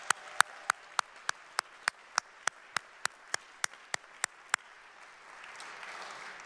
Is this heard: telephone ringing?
no